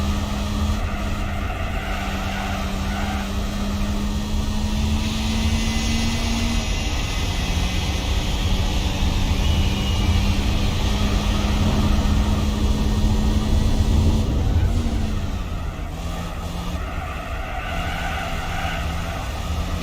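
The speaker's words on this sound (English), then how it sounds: "You can hear the sound of the carburetors really sucking in the air." A carbureted car engine in Gran Turismo 4 drones steadily throughout, its pitch holding and then shifting slightly as it revs, with a raspy carburetor intake roar and no voices.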